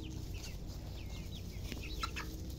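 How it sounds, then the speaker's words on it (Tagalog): Several free-range chickens roaming outdoors cluck softly and intermittently, set against a steady outdoor hum of background noise. "Ayan po yung ating mga alagang manok oh."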